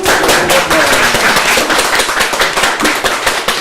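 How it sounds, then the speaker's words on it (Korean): Dense, sustained applause from a seated audience at a Korean literary event, fast overlapping claps filling the room steadily from start to finish with no pauses. "오늘 수고해주신 세 분께 박수 부탁드리겠습니다"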